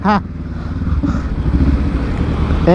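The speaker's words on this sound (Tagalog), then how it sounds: "Tayo lang naman na yung magpapainit na motor, kaya ikot-ikot tayo." A motorcycle engine warming up nearby, a steady low idle rumble with slight rises, and short bursts of talk at the start and end.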